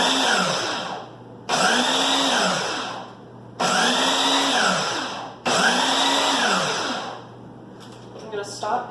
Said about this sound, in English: We are going to pulse this until you cannot see any more whole-sized chickpeas